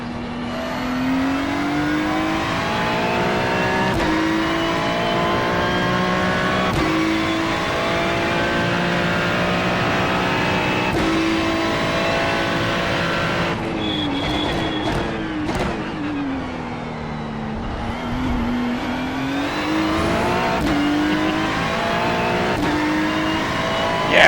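GT3 race car engine in a sim racing game at Sebring at night, a loud continuous high-revving drone that rises and falls through gear changes and braking, with no talk over it.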